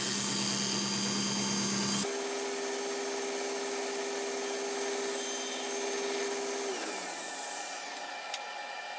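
A power saw rips and mitres wooden side pieces, a loud steady motor whine with a shifting tone as the blade cuts, then spinning down near the end.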